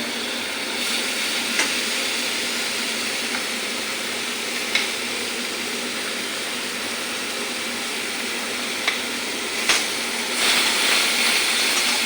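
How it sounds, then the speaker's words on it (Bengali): Spice paste with ginger frying and being stirred in a pan, a steady loud sizzle running throughout with occasional scraping knocks of the spoon. "এখন ভালো করে মশলাটা কষে নিই"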